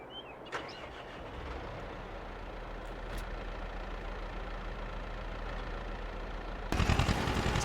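A tractor engine idles in the Farming Simulator video game, a steady low rumble that runs evenly for several seconds before a louder surge near the end.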